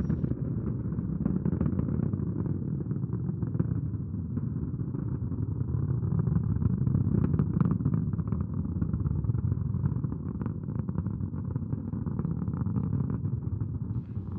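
Six first-stage engines of a Proton rocket roar through the Nauka module launch, a dense low rumble that holds steady and loud for the whole stretch with faint crackle on top, no voices.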